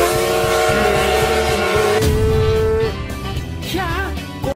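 A Plarail toy electric train, Percy from Thomas the Tank Engine, runs outdoors with a steady rhythmic clatter and sustained whistle-like tones, loud and close, the pitch wavering near the end.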